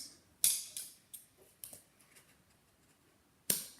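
Scissors snipping through material for a homemade adventure costume, a few sharp close cuts spaced irregularly with soft rustles between, ending on one louder snip; quiet room, no speech.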